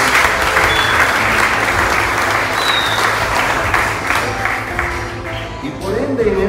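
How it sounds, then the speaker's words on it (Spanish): Wedding guests applaud loudly in a full, sustained burst of clapping for the Lord during a church wedding ceremony. Faint tonal sounds rise near the end. "Denle un aplauso al Señor."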